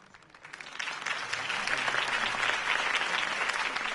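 A crowd in Batman: The Telltale Series applauds and cheers after a campaign speech, the clapping swelling quickly and holding steady and loud.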